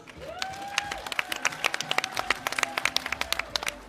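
Audience at an African women's dialogue opening panel claps steadily, a moderate round of irregular hand claps building over a few seconds, with a faint sustained tone beneath and no talk over it.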